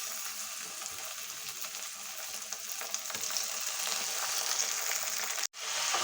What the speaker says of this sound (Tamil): இப்போ தக்காளி போடுவோம்.